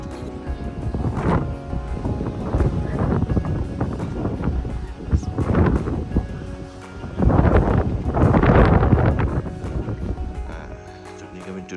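Strong gusts sweep a mountain trail at Kew Mae Pan on Doi Inthanon, roaring and buffeting the microphone in loud surges that rise and fall across the whole stretch.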